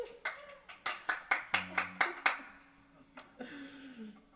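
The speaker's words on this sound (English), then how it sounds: "Yeah, clap." A small group clapping along at a live radio studio performance, quick sharp claps in a steady rhythm that thins out into a few scattered claps near the end.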